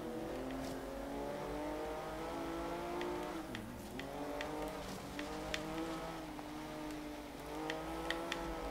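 Porsche Cayman engine revving in Forza Horizon 3, a steady sustained drone with rising and falling pitch sweeps, no talk.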